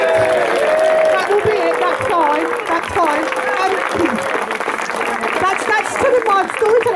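An audience at a storytelling show at Redfest claps and cheers for several seconds, a dense wash of applause with voices and shouts mixed in, fairly loud and near.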